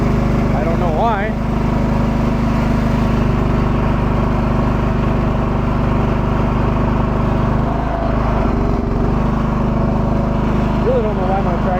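A 1997 John Deere 325 tractor engine runs steadily while plowing snow, a loud, constant motor drone that holds close and even throughout, with a faint whistle-like tone rising briefly near the start.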